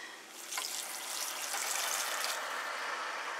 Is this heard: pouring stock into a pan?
yes